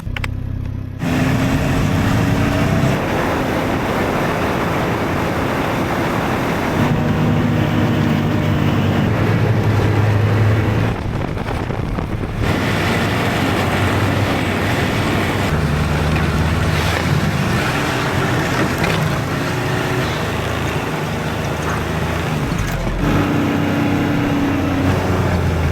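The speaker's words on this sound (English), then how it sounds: "when you snowmobile, you can go anywhere" Snowmobile engine droning steadily and loud while riding along a snowy trail in extreme cold, with wind rushing over the microphone throughout; the tone shifts a few times as the machine changes speed.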